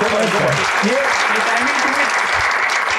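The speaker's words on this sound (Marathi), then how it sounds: "शिवमसाठी एकदा टाळ्या भाई." Studio audience claps steadily for a guest on a Marathi talk show, a dense, loud round of applause that runs throughout, with a voice speaking over it.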